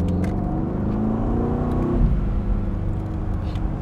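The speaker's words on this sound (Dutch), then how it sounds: "Hier is hij veel meer, ja, de V8 roffel over de hele linie." A V8 engine in an Aston Martin Vantage Roadster or Mercedes-AMG GT C Roadster revs hard with a loud, close rumble. The pitch climbs steadily, then drops off into a deep burbling roll with no talking.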